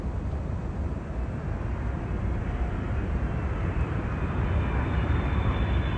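An airliner applies reverse thrust after landing at Miami, a steady, loud broadband jet roar that swells slightly over a few seconds, heard alone without speech.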